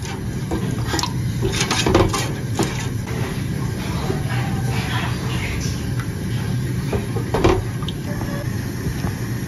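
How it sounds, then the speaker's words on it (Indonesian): A spoon scrapes and clinks against a pot as a jelly mixture is stirred continuously over medium heat, with a steady low bubbling bed and occasional sharper knocks. "ini dimasak menggunakan api sedang sambil terus diaduk seperti ini sampai mendidih"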